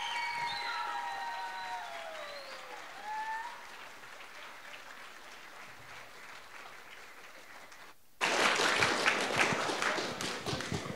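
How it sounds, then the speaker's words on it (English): Applause from an audience at a Women's History Month school assembly, welcoming the participants, bursts in loudly near the end after a stretch of quieter speech and room noise. "give them, just to start, a big, warm welcome, applause for all those participants"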